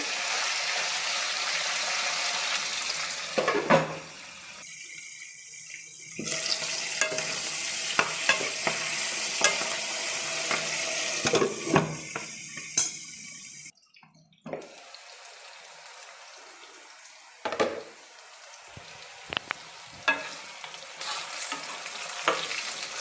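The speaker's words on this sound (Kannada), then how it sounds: "ಎಣ್ಣೆನಲ್ಲಿ ಚೆನ್ನಾಗಿ ಬದನೆಕಾಯಿ ಫ್ರೈ ಆಗಬೇಕು" Brinjal fries in oil in a pan with a steady hiss, broken by repeated clanks and scrapes of stirring, a few brief quiet gaps, and a stretch of running water.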